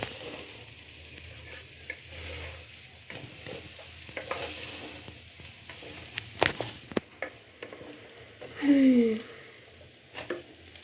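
Rice grains being stirred in a pot for konch biriyani give a steady scraping, rustling sound with a few sharper knocks and a faint sizzle underneath, close and moderately loud, with no talk.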